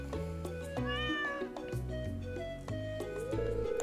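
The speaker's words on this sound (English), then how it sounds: "You see this cat here?" In the Stardew Valley farming game, a stray cat meows a couple of times over the game's soft background music and chimes.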